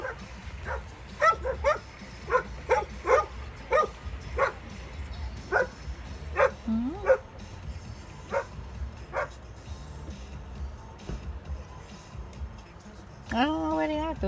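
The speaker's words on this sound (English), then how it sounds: "oh goodness, I hear a dog." A dog barks in a series of sharp, separated yaps at moderate distance, with a whine near the end, while people talk nearby.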